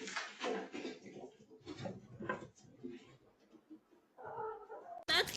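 Cats meowing in a living room turned into a cat play space, several short calls coming and going at moderate distance, with brief bursts of other noise and a sharp knock near the end.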